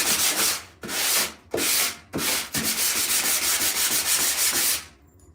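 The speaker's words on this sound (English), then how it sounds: "Sanding block." Rough, rhythmic sanding strokes from a sanding block rasp against wood, a few separate passes followed by a steady run of quick back-and-forth rubbing, close and loud.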